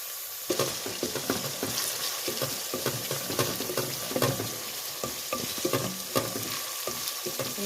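Onions fry in oil once their cooking water has boiled away, a steady sizzle broken by repeated scraping and stirring strokes close by, with no voices.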